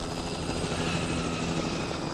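A steady helicopter rotor drone in The Last of Us Remastered, loud and continuous, with a dense, even whir throughout.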